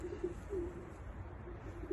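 Austrian racing pigeons kept as breeding stock coo softly in a loft, low repeated throaty calls coming in short pulses over a quiet background.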